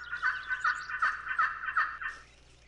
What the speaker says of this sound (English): I know there's a turkey over here somewhere